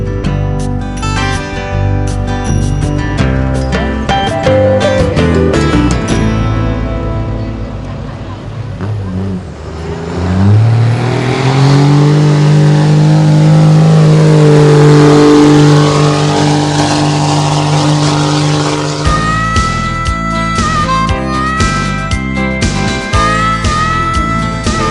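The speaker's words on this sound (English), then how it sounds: "Probably the most interesting, grueling, and downright tough event of the weekend was the truck pull." Diesel shop trucks pull a punishing weighted sled at a truck-pull event, one loud engine roar rising and swelling in pitch through the middle before settling into a sustained heavy drone amid busy event noise.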